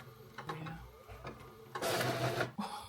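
A malfunctioning printer at work on sticker sheets, close mechanical whirring and clicking in uneven bursts, swelling into a loud grinding rush of movement before stopping abruptly with a final clunk.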